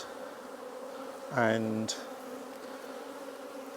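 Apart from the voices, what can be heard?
honey bees buzzing during a hive inspection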